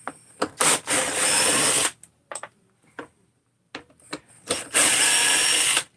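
Power driver backing greased screws out of a handle in a workshop: several short whirring bursts, some brief stutters, then two longer sustained runs separated by quiet pauses, close up and loud.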